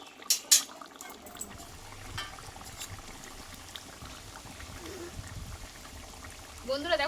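Taro curry with a half spoon of garam masala powder simmering in a pot, low continuous bubbling close by, opening with a couple of sharp clinks and ending with a light scrape, while someone talks over it.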